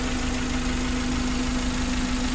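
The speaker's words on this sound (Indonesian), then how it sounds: "Dan mesinnya ini halus." A repaired car engine, previously overheating with a corroded engine block, idles smoothly up close, giving a steady, even hum with no breaks or surges.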